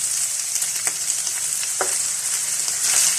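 Minced meat keema fries in oil with tomato puree in a hot pan, giving a loud, continuous hissing sizzle with a few soft spoon taps as it gets stirred.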